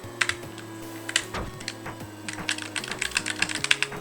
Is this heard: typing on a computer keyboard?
yes